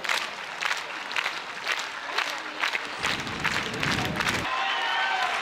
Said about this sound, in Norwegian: Vi klapper litt for Sindre også.